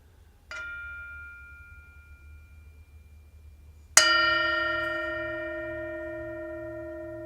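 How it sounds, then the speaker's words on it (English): A meditation bell rung to open a time of prayer: a faint first tap, then a clear strong strike whose bright ringing tone lingers and slowly fades in a quiet room. "I'll invite the bell to sound."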